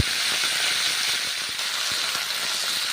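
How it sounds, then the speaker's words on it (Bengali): Shredded cabbage and nuts fry in hot oil in a home kitchen, giving a steady, close hiss and sizzle with faint scattered crackles throughout, no voices. "নেড়ে চেড়ে ভেজে নিচ্ছি"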